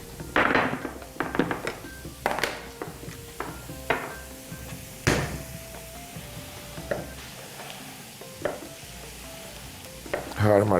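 Carrots fry in a pan with a close, steady sizzle broken by stirring and several sharp knocks of a utensil against the pan.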